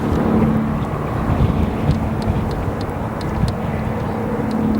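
Planes arriving at O'Hare International Airport at night give a steady, loud jet roar that fills the whole stretch, with wind noise on the microphone.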